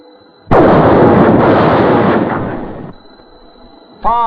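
A single heavy field artillery gun blast booms out loud and close, then its rumbling echo rolls away over a few seconds before a voice begins.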